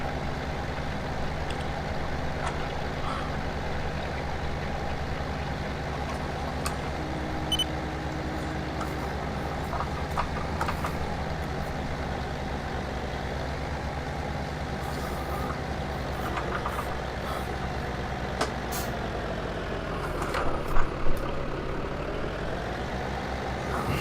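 A tractor engine drones steadily and evenly throughout, a low continuous rumble at moderate distance with a few brief clicks near the end.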